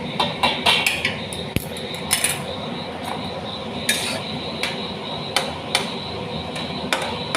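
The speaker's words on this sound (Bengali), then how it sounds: "এই যে দেখো, এই যে থালাটা তুলছি এবার।" A metal plate used as a lid clinks and scrapes off a cooking pot of sweet pumpkin curry on a gas stove, giving several sharp metallic knocks and rattles at close range over a steady kitchen background.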